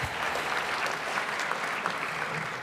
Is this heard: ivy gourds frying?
no